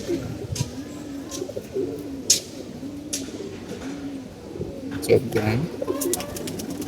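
Pigeons, including a female, coo in repeated low rolling calls close by, with a person talking over them and occasional sharp clicks and rustles.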